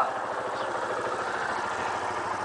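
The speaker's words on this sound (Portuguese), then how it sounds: "Ó, tô vindo com a moto, ó." A motorcycle engine idles steadily nearby, a continuous low rumbling putter with even pulses and no revving throughout.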